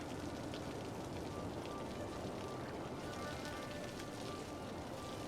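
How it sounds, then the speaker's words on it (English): Steady, dense rain in a city-building video game patters evenly across a surface, a continuous soft hiss with no pauses and no talking. "I feel as though it is raining."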